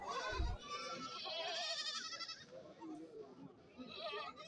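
A goat market crowd hums with someone talking while goats bleat, a mother and her two young kids among them, with several wavering cries rising above the chatter.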